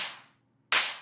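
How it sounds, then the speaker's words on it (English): A punchy gated reverb snare hit in a techno track, with a bright burst of reverb that cuts off abruptly, followed by a second sharp hit that also ends short. "it's kind of a gated reverb snare"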